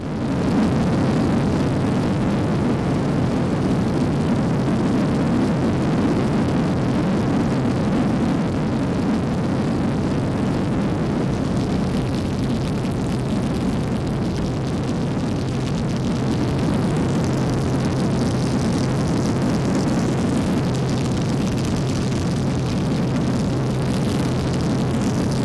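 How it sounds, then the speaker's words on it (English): A warbird airplane flies at the Warbirds Over Wanaka air show, a steady, loud engine drone lasting throughout without a break. "Beautiful airplane to fly."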